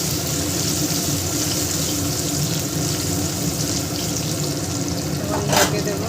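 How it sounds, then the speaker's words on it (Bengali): Three medium potatoes with turmeric and salt fry in a pan, giving a loud, continuous broadband sizzle with a brief brighter crackle near the end. "আলুগুলো এইভাবে ভাজা করব যেন সিদ্ধ হয়ে যায়।"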